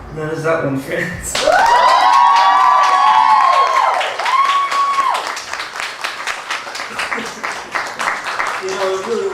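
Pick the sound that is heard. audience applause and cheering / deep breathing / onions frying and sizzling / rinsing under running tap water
audience applause and cheering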